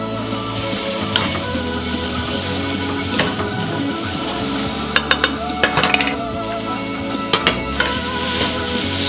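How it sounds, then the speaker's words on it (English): Spoon stirring vegetable curry soup in a pot, a steady sizzle and simmer with soft scraping and a few light clinks of utensil against the pot, close and continuous with no talking. "Stir it up."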